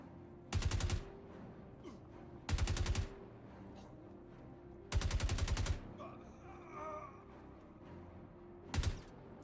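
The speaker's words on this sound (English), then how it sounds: "They are shooting at me." Bursts of rapid automatic gunfire in a video game, four short sharp volleys spaced a couple of seconds apart, loud against a quiet background with faint game sounds between.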